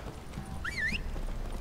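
Roach, a horse in the video game The Witcher 3, gives a short, high whinny over faint background game ambience, with soft hoof clopping beneath.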